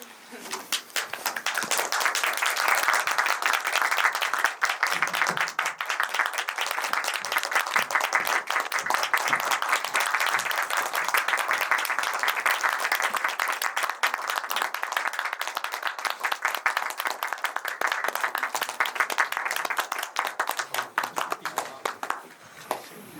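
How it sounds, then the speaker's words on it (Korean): Audience at a Korean film screening Q&A applauding as the guests enter, a long steady round of dense hand clapping sustained for over twenty seconds, building quickly and then holding evenly. "입장하실 때 큰 박수 부탁드릴게요."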